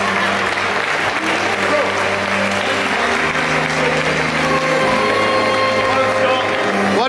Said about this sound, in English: can you please give us a rousing round of applause for our new national champion